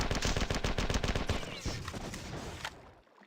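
Rapid rhythmic bursts of weapon fire from Marathon 2: Durandal, close and punchy, fading into a brief echoing tail and then silence after about three seconds.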